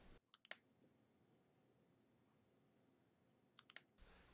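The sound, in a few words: 10,000 hertz sine tone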